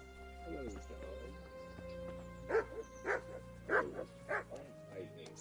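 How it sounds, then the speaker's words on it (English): A dog in the video game Kingdom Come Deliverance barks four times in a quick series. The barks are moderately loud over a low ambient hum, and a voice is briefly heard just before them. "Hello, dog."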